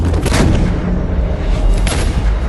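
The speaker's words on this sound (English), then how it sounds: "The artillery opened, the mortars opened, the infantry posts opened." Heavy artillery and mortar fire in battle along a line of control, a dense continuous roar of booms and blasts, loud and close, with no voices.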